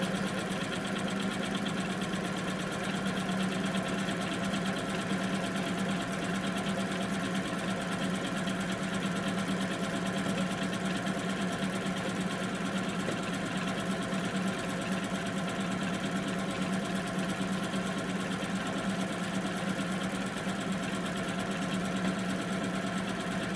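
A sewing machine runs continuously, stitching the seam of a market bag's main panel with a steady, even mechanical whir at low level throughout.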